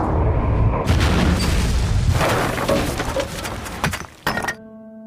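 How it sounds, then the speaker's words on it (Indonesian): An explosion in an action film recap about a combat robot woman, a sudden loud blast followed by rumbling debris and crashing, then a sharp final impact before a tonal music sting. "tiba-tiba saja tempat tersebut meledak"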